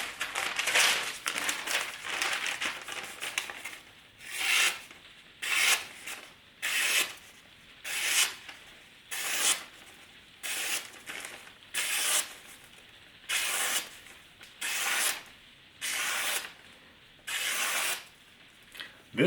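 A karambit knife with a satin finish slices through newspaper in a regular series of short, crisp tearing swishes, about a dozen strokes spaced roughly a second apart, close and clear with no talking.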